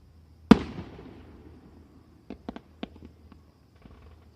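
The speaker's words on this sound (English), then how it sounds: "I've never seen a silver firework." A single loud firework burst goes off nearby with a sharp boom and long fading rumble, followed by several smaller crackling pops a couple of seconds later at an outdoor 2013 fireworks display.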